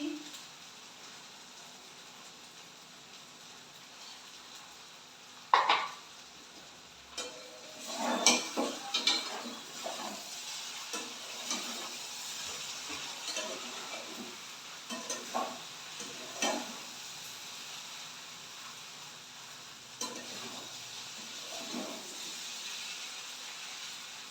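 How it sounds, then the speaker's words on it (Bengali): Shrimp pasta stirred in a pan as fish gravy is added, with soft sizzling under scattered clinks and scrapes of a utensil against cookware, a sharp knock near the start and busier stirring through the middle. "এবার একটুখানি মাছের ইয়ে গ্রেভি আছে এটা দিয়ে দিচ্ছি"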